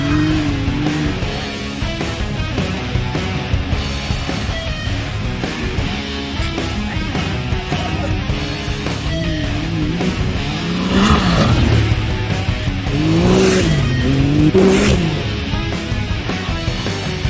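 A 2021 Can-Am Maverick X3 Turbo side-by-side runs around a dirt track, its loud turbocharged engine droning steadily and rising and falling as it accelerates and slides through turns.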